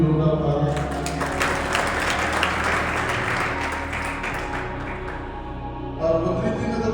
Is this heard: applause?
yes